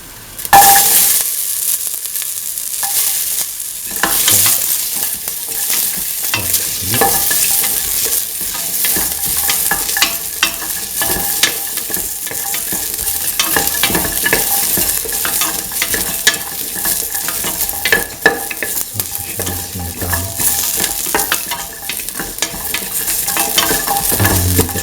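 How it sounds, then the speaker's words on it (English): Garlic and shallots fry loudly in a pan, a dense continuous sizzle with frequent scraping and stirring clicks throughout, close and unbroken, with no speech. "now put in the garlic and the shallots,"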